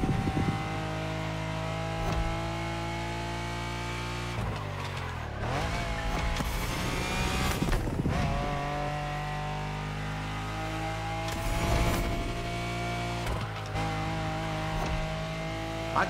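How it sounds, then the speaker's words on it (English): A Lamborghini in the racing game The Crew Motorfest howls loudly as it revs up and down through repeated gear shifts, with sharp pitch sweeps and brief drops between pulls. "Car engine sound better than like Forza and whatnot"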